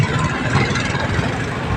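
A black motorbike's engine hums steadily at a low, rough idle, close and continuous with no pauses.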